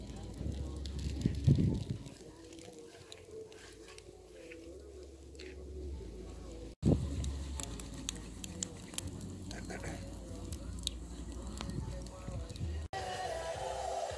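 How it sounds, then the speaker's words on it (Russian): An outdoor campfire burns at a riverside fishing and barbecue spot, a low crackling bed under frequent nearby talk, with birds and cooing doves calling in the background. "Костер уже погнал гореть."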